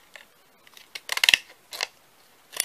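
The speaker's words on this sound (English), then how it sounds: "I'm just going to do trim the edges just enough you can see the design of the cut of the scissors" Scissors trim the edges of an embossed card in several quick crisp snips, a tight cluster of cuts in the middle and a few isolated ones, close and clear with no talking.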